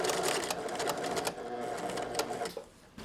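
Sewing machine stitching a bolero collar, running in a steady rapid whirr that locks the stitches, with brief pauses and a short drop near the end.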